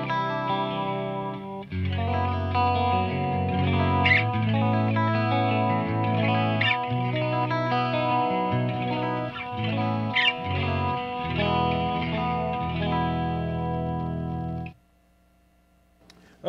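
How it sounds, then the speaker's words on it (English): MXR Wylde Audio chorus pedal on a clean guitar channel, shimmering chorused electric guitar chords and single notes ringing out steadily for about fifteen seconds before stopping abruptly, with no talking. "now let's check out the new chorus pedal"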